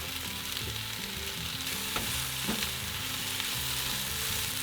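Pork, Chinese yam and shimeji mushrooms stir-fry in a pan, a steady close sizzle with scraping stirs and light clinks throughout, no talking.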